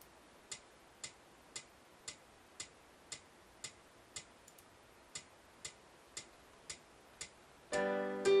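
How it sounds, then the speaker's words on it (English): Metronome in MusicInteract piano software, giving a steady run of about fourteen sharp, evenly spaced ticks roughly every half second, quiet and alone, cut off at the end by a brief buzzing tone. "Click the metronome icon to enable the metronome ticks."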